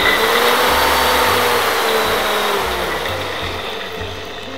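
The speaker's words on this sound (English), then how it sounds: "Now that all the spices are in the blender cup, we're gonna pulse them until a chunky paste forms" A blender motor whirs loudly in repeated short bursts, its pitch dipping and rising with each pulse as it grinds garlic and spices into a thick, chunky paste.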